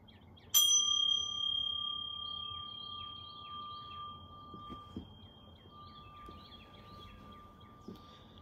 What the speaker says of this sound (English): I need to ring a bell.